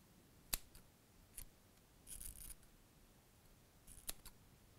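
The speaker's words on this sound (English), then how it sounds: "I normally just rest my scissors there, cut it, hold it down a little bit." Scissors snip through cotton wick trimmed flush on an e-cigarette coil, a few sharp, quiet close-up clicks spaced apart, including a quick double cut, over a faint background hiss.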